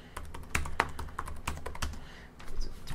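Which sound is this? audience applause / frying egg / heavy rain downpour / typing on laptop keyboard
typing on laptop keyboard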